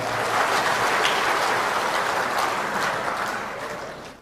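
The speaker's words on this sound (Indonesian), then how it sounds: "tepuk tangan untuk Papua juga" An audience at a ministry national working meeting applauds for the Papua delegation, producing dense sustained clapping from a large hall crowd that fades slightly at the end.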